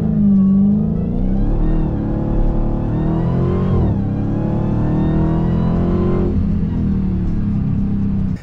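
A 2023 Dodge Challenger SRT Black Ghost accelerates hard as its tires spin. The engine roars loud and close, rising in pitch through the gears, with a brief dip near the middle before it climbs again.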